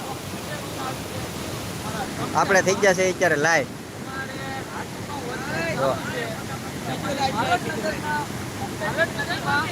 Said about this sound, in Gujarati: અત્યારે અમે છે માલણ નદીએ ચમસાણે પાણી છે જોરદાર